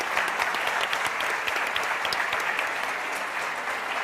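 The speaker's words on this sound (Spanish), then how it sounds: "Así que los despedimos con un gran aplauso." Steady, dense applause from a conference audience sending off a panel on technology trends, efficiency and financial inclusion, holding at an even level for the whole stretch with no talk.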